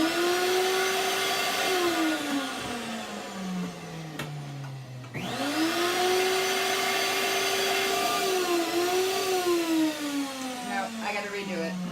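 Electric air pump inflating a reborn doll womb, a loud whining motor whose pitch slides down as pressure builds, briefly cuts out, then restarts and runs on steadily close by.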